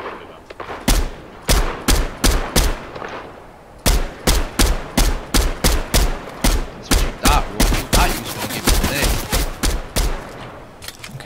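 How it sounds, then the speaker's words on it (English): Rapid bursts of gunfire ring out in a shooter video game match, a dense run of loud sharp shots in quick volleys with brief pauses between. "no way you're actually shooting at me"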